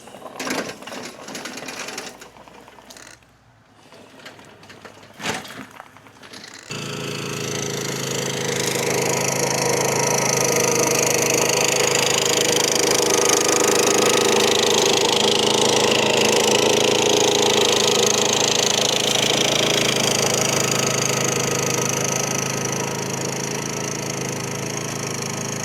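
A gas engine on a remote-controlled lawn mower with a dozer blade starts after a few quiet clunks and then runs steadily, a loud buzzing drone that holds for most of the clip.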